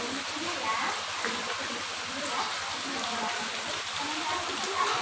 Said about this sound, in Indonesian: Ini adalah suara air yang mengalir.